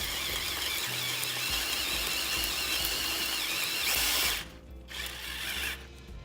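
Power drill boring a tea light hole into a wooden holiday candle holder, a steady loud grinding whine with some squeal that cuts off near the end, followed by a brief lower mechanical rattle.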